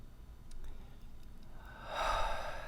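A deep, forceful exhale during a guided breathing exercise, starting soft and swelling into a loud, breathy rush of air near the end, close to the microphone with no talk.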